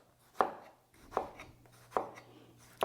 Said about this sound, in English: Cut into squares. Always have a sharp knife